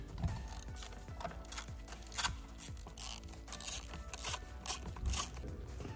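Torx T20 trim screws being removed from a BMW E60 M5 steering wheel, faint rapid ratcheting clicks from a hand driver in quick uneven runs, close and quiet with no talk.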